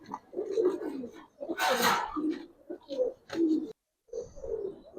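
Giribaz pigeons of an old breed in an Old Dhaka loft give repeated deep, throaty coos in short bursts with brief pauses, close by, with a sharper rustling burst partway through.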